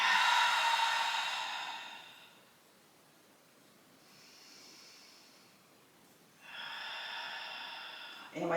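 Forced exhales through a blocked nose with the tongue held against the palate during a breathing exercise, two strong hissing breaths separated by a quieter one, close and alone.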